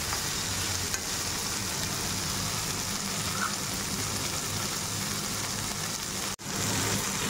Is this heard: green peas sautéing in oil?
yes